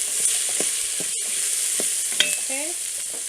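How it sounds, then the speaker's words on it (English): A spoon scrapes and stirs mirepoix frying in a pot, with a steady soft sizzle underneath and a few distinct scraping strokes and clinks, close and fairly quiet. "I'm going to give my mirepoix a stir."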